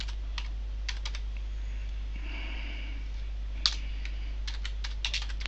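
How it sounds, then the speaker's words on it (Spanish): A short message being typed on a computer keyboard, scattered soft clicks in small clusters with gaps between them over a low steady hum, close and quiet, with a faint sniff and no speech. "Y le voy a escribir un mensaje."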